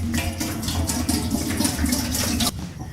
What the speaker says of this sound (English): First we're going to add 10 litres of water to a pot.